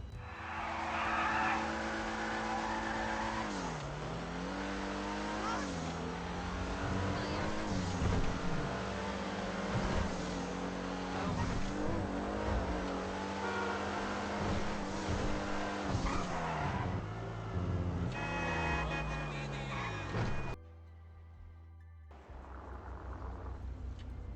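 A Dewbauchee Specter rear-wheel-drive sports car with a six-speed gearbox drives in GTA Online, its engine revving loudly through gear changes with tire squeal and skidding, then cutting off abruptly near the end.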